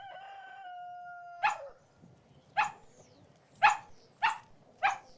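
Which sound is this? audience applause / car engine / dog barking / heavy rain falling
dog barking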